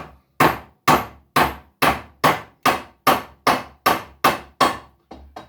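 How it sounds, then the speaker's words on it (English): Twelve sharp hammer blows drive a pin into wood at an even, steady pace, close and loud, each ringing briefly before the next; the final hit is softer. "And I pound that in"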